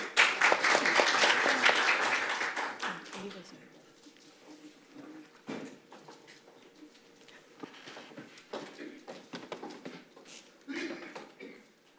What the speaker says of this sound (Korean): 여러분 큰 박수로 정은정 국장님을 맞아주십시오